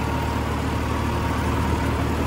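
A Swaraj 969 4WD FE turbo tractor engine runs steadily at close range, pulling a cultivator in four-wheel drive, with a constant loud low rumble and no gaps or speech.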